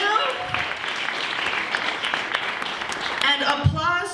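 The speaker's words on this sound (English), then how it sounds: "Round of applause for them, too." An audience at an annual performance party in San Antonio claps in a steady, dense patter, swelling slightly near the end as a voice cuts in briefly.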